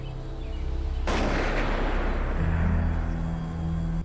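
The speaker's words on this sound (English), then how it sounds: "Who's lighting fireworks at 6 in the morning?" Fireworks going off at six in the morning, a loud sudden blast that rolls into a long crackling, rumbling decay, heard over steady background hum.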